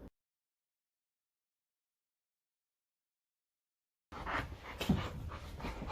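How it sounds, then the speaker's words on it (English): After a long stretch of silence, a dog pants rapidly and close up for a couple of seconds, with quick, breathy rhythmic huffs. "I have my dog Zoe here to help me show pull"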